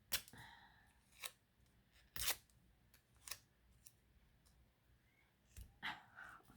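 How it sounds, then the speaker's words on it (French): Paper being torn by hand to look like a worn old newspaper article, heard as a few short, sharp rips spaced out over quiet, close and soft. "je vais venir, s'il veut bien, le déchirer de façon à faire comme si, voilà, c'était un vieil article de journal"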